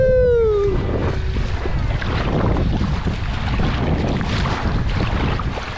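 Steady wind rushes over the microphone and water slaps and churns around a kayak on Lake Taupo, New Zealand, loud and continuous with choppy waves, after a brief whistling tone at the start.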